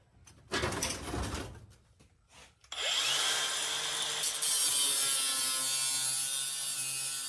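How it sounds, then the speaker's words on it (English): On a 1972 VW Super Beetle, scraping and rubbing noises come first, then a grinder whines loudly and steadily as it takes off stubborn leftover pieces of foam up close. "We'll get a couple of these stubborn ones with the grinder."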